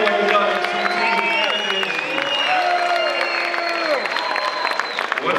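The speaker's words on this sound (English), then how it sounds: "Can you give a round of applause to Jay Majors for doing what he does?" Audience applause and cheering at a Connecticut barber battle event, dense steady clapping with whoops and voices over it, loud and sustained throughout.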